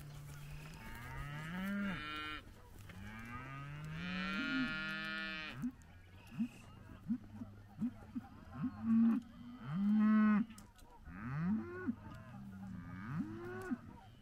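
Cows and young calves low and moo repeatedly while being moved through gates, a chorus of long rising calls and shorter bawls at varied pitches, some close and loud, others farther off, with no talk over them.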